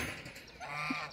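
Goose honking once on a farm, a short single call rising late against a steady background murmur of other birds and outdoor noise.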